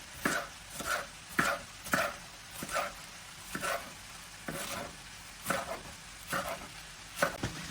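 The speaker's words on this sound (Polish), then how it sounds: "Teraz kroję kapustę pekińską. Odkraiwam tutaj tą końcówkę i kroję w paski." A knife slicing Chinese cabbage into strips on a cutting board in a steady series of crisp, evenly spaced cuts, close and clear with no talking.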